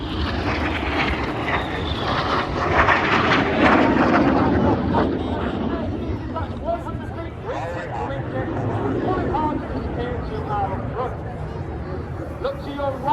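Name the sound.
Tutor aircraft pair flying at RAF Cosford air show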